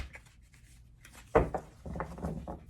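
A deck of tarot cards is shuffled by hand up close, with soft papery rubbing and brushing, one sharper slap, then a flurry of quick riffling swipes.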